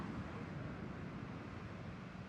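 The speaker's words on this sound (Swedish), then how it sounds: "Och lika fort tillbaka, då kommer nästa våg här." Atlantic Ocean waves wash steadily onto a beach, a continuous broadband rush of surf that stays soft and distant, with no voices.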